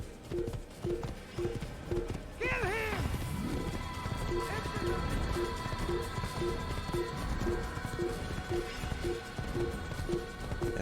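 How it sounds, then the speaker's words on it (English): Horse hooves clip-clop in a steady, regular trot in Assassin's Creed on PC, set in the Holy Land, with a brief whinny and a crash early on over a dense game soundscape. "I just got on a horse"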